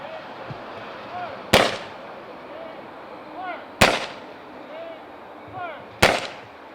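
Three sharp, loud rifle volleys from an honor guard at an outdoor Memorial Day service in a cemetery, spaced about two seconds apart, each echoing briefly, with birdsong and faint background murmur between shots.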